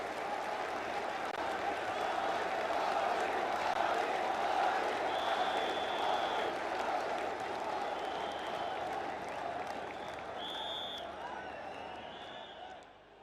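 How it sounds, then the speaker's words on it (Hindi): A large crowd at a public event applauds to welcome Prime Minister Modi, sustained dense clapping and murmur of a big audience, steady and loud, with faint higher tones briefly cutting through and the noise tapering slightly toward the end. "बजाइए ताली और बुलाइए माननीय प्रधानमंत्री जी को"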